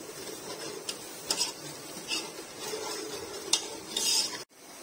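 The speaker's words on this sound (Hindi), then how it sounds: "और अब हम इसको अच्छे से फिर मिक्स कर लेंगे।" A spoon stirs cake batter mixed with melted butter and milk, scraping and clinking against the bowl in uneven strokes with a few sharper taps, up close, no talking, ending abruptly.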